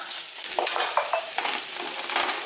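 Ginger paste and onions sauté in a pan with a bright, close sizzle, and a spoon scrapes and stirs through it in a quick run of strokes, with no talk.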